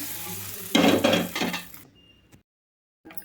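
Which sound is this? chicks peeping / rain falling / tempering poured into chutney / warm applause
tempering poured into chutney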